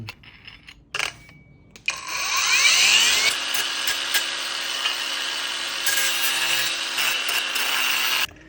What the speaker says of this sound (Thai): มาใส่ใบเจียกันต่อนะครับเพื่อเจียงานลบคมให้สวยงาม